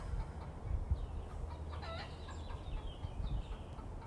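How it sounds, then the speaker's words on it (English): Chickens clucking softly at a distance over a low rumbling background, with a few brief higher calls breaking through. "I love hearing the chickens."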